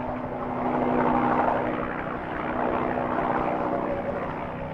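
A rescue helicopter lifting a stretcher off a cliff ledge keeps up a constant rotor drone with a low hum underneath. It swells slightly and then holds steady at a fair distance, with no talking.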